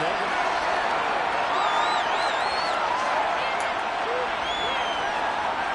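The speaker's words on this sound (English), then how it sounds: "Plenty of shouts from this crowd as they watch the replay." A football stadium crowd in a Bills versus Seahawks Super Bowl game shouts while watching a replay: a loud, continuous wash of voices with scattered whoops and whistles rising through it, and no distinct talk on top.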